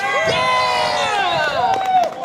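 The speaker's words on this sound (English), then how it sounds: "let me know if you guys agree with this with a big cheer" A crowd at an outdoor gun rally in Wichita, Kansas lets out a big sustained cheer, loud and close, with whoops and shouting voices rising and falling for a couple of seconds.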